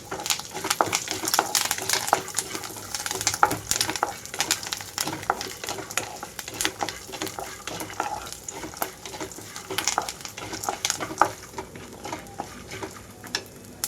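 Crushed garlic and curry leaf sprigs fry alongside phool makhana in hot oil, giving a steady busy sizzle with frequent stirring scrapes and crackles throughout, close and alone with no talk.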